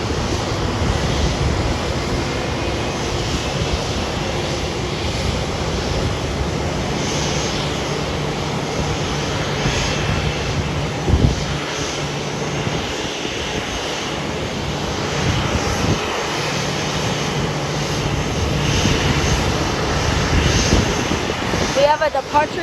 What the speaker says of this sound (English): Her engine's now starting up.